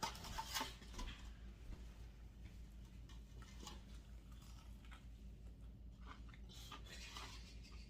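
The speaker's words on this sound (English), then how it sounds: "Listen to the crunch" Crunchy bites into a fried chicken sandwich and chewing, close to the mic, with crisp crackles scattered over a low background hum.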